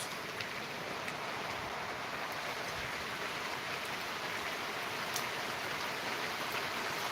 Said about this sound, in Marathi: तर आता कमी झाला पाऊस